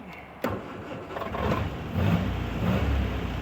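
A cold 1962 Triumph TR4 engine cranks and catches with a sharp start, then settles into a rough, rising rev as it runs with the choke pulled out, steady and close throughout.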